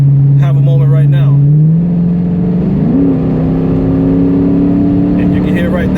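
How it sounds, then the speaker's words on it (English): A Hemi Dodge Challenger's exhaust revving, a loud, close, deep rumble that climbs in pitch and then settles into a steady drone, with a voice talking over it at the start. "that's the fun factor and the exhaust right there"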